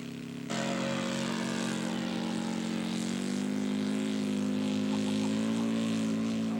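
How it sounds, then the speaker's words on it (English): A scale model propeller aircraft taxis into position for its first flight on a Saturday morning, its small engine droning steadily and close, rising slightly in pitch partway through with no talk over it. "Mike Brewer is turning into position for his first flight Saturday morning."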